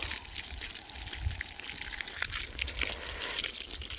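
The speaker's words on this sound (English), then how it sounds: "Some purple flowers here, let's water those." Water pours and trickles steadily outdoors onto purple flowers and into a large hole, a continuous close splashing and gurgling wash with small drips, no talking.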